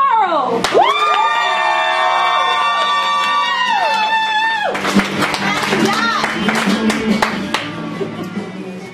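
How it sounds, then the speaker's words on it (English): An audience at a literary slam breaks into loud, enthusiastic clapping and cheering, with shouts and whoops rising over a dense wash of applause close by; a sustained tonal chime rings out at the start. "Ladies and gentlemen, clap real loud and enthusiastic like for Carl"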